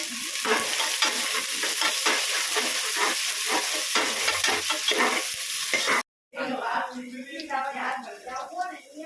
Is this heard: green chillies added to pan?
yes